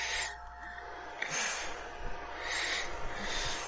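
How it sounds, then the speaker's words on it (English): A big bird in the game ARK lets out a series of loud, breathy calls, roughly three long cries with gaps between them, over steady game ambience. "Oh my god, there's a big bird up here."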